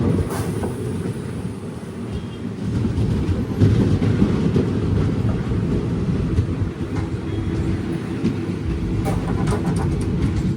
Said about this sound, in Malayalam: ട്രെയിൻ അങ്ങനെ കൊട്ടാരക്കര റെയിൽവേ സ്റ്റേഷനിലേക്ക് എത്തിയിരിക്കുകയാണ്.